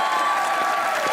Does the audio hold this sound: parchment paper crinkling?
no